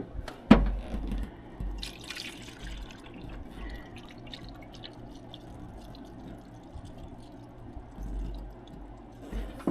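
Coolant pours and trickles into the overflow bottle of a Dodge's new radiator, a soft steady liquid fill with occasional drips and knocks, fairly quiet and close, with no talking.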